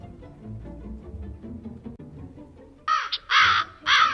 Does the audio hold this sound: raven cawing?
yes